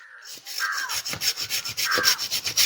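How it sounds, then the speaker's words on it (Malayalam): A pruning saw cutting through a large piece of wood, with steady back-and-forth rasping strokes repeating about every quarter second, close and fairly loud. "വലിയൊരു തടി കഷ്ണമാണ് ഈ വാള് വെച്ച് നമ്മൾ മുറിക്കണണ്ട"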